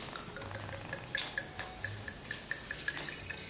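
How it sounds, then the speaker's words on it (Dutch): Red wine being poured into a large glass, a faint gurgling trickle with small rhythmic splashes close by, heard alone. "Ik zal hem trouwens even voor je inschenken."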